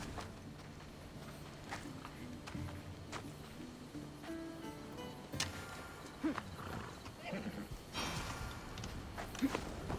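Horse hooves clip-clop while riding in the video game Assassin's Creed Odyssey, faint and intermittent beneath background music and game sounds, with a few louder thumps later on.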